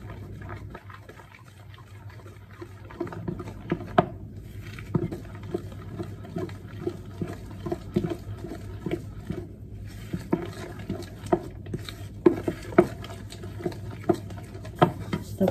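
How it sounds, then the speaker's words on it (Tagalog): Banana muffin batter being stirred by hand in a bowl in a cramped home kitchen, a steady run of soft wet taps and scrapes that keeps going for the whole stretch at close range, with no talk over it. "Paghaluin muna natin."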